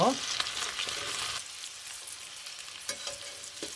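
Korean dongeurangttaeng meat patties pan-fry until golden on both sides, a close sizzle with a few utensil clinks near the start, then a softer, steadier crackle with no talk.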